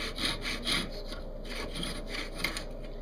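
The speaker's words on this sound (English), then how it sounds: "When it's time to cut off your sticks, your studs, whatever you want to call them, use a jig and a handsaw" A handsaw cuts a small wooden dowel held in a jig, giving steady back-and-forth rasping strokes close by, with no talking.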